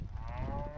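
Cattle, including a red calf, low a steady bellow on a cold, windy ranch, with wind noise running underneath throughout.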